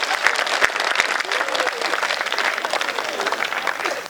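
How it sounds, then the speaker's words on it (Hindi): Dense audience applause from a crowd at a comedy poetry show, steady and loud throughout with a few sharper individual claps standing out near the start. "एक बार दोनों हाथ ऊपर उठा के तालियां बजाओ।"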